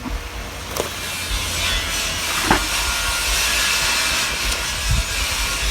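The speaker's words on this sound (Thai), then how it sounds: "น้ำเดือดได้ทีแล้วครับพี่น้องครับ" Water rolls at a full boil in a pot for a Thai fish soup with lemongrass, a steady loud hissing bubble with a few soft knocks and clicks scattered through it.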